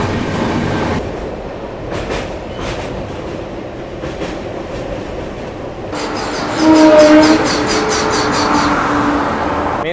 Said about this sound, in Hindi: तो ये निकली चेन्नई गरीब रथ।